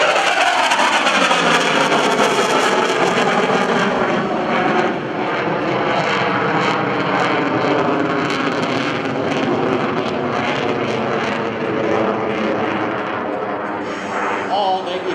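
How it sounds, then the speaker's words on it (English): An F/A-18C Hornet jet fighter flies vertical maneuvers at the 2011 Boston Portsmouth airshow, its loud, continuous engine roar filling the whole stretch without letup. "illustrates the incredible pitch authority and the vertical maneuverability of the F-18"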